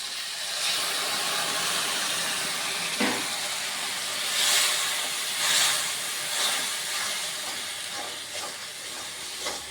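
Spice paste for spicy crab jhal fries in a pan, giving a soft, steady sizzling hiss with a few brief louder spits and crackles rising and fading over the quiet background.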